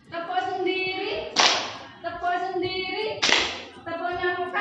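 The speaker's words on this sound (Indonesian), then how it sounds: "Oke, tepuk sendiri." Group of children in a classroom counselling activity clapping their own hands, right hand on top, in two sharp bursts of claps separated by sung or chanted children's voices.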